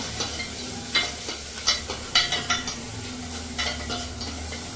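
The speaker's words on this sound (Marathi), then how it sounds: "थोडस त्याला चांगलं भाजून घ्या" Tomatoes roasting in a hot pan, a steady sizzle broken by a series of soft scraping stirs at a fairly even rhythm, close and moderately quiet with no talking.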